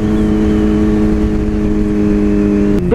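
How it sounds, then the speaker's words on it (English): A big truck drives past a motorcycle rider on a mountain road in Georgia, a loud, steady engine drone with a low hum that shifts abruptly at the very end, with no talking. "Big truck."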